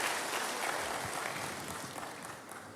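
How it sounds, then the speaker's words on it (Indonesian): A congregation applauds during a church service, a dense, even patter of many hands clapping that sounds distant and soft and slowly fades. "Berikan tepuk tangan bagi Tuhan, haleluya."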